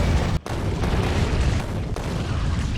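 Manually targeted artillery strike on enemy bases in Factorio, heard as dense, continuous rumbling booms and blasts that roll together without pause, loud and close, with one brief dip early on.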